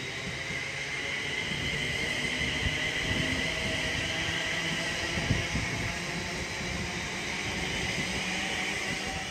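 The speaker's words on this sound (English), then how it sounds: "And London North Western Railway 350 is well on the move now." London Northwestern Railway Class 350 electric train moving along the line, a steady broadband rumble and hiss of wheels and motors that holds at an even level throughout, with no talk.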